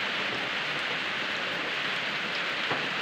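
Steady rain pours down in a constant even hiss, close and unbroken for the whole stretch, with no talk.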